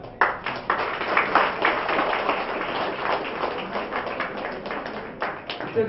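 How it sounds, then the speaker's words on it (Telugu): Dense, sustained applause from an audience at a Telugu film success meet for Gautamiputra Satakarni, many hands clapping steadily and loudly throughout with no break. "Give a big clap."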